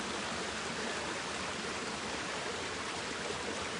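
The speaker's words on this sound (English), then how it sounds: "We got this spring water going down" Steady rushing of flowing water, like a spring or small stream running nearby, continuous and even with no voices.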